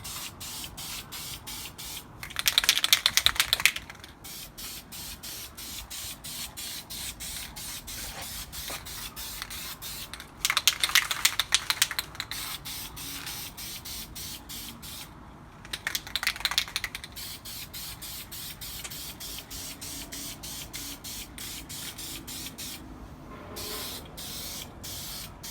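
VHT Nightshades tint sprayed from an aerosol can onto car tail lights outdoors in the wind: three separate hissing bursts of a few seconds each, fairly close, over steady wind noise and no talk.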